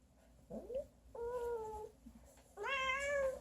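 A cat meows three times close by, the last call longer and more insistent, with quiet pauses between.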